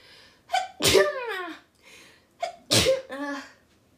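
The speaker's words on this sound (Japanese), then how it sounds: "でくしゃみでそう。" Two sharp sneezes, each with a quick intake of breath before it, a short pause between them, close and fairly loud.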